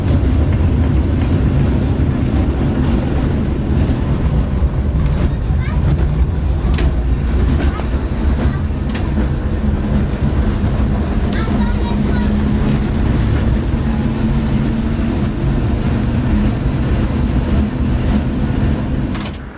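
A historic tram runs through Geneva or Bern with a loud, steady rumble and rattle of wheels and carriage throughout, the noise continuous and close.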